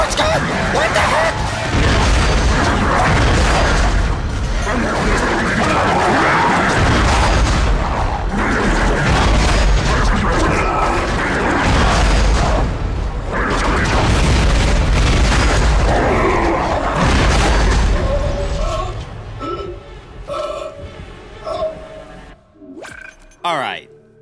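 Force gun firing in the Dead Space video game, loud repeated booming blasts and crashes that continue for about twenty seconds before dying away, mixed with excited talk.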